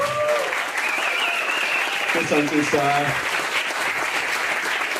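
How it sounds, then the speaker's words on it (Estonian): An audience applauds for a newly minted doctor at an Estonian talk on crowdfunding investment strategies, steady dense clapping throughout, with someone speaking over it partway through. "Suur aplaus siis alustuseks meie vastne doktor Kristjan Liivamägi,"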